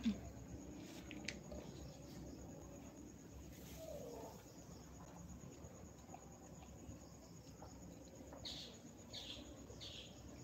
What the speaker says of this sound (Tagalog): Mayan, may mga ibon pala.